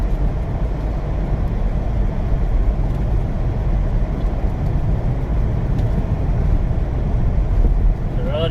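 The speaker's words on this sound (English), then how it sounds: "driving in a snowstorm, guys. I can't see the road." A car drives steadily through a snowstorm on a snow-covered road, with a continuous loud rumble of engine and tire noise throughout.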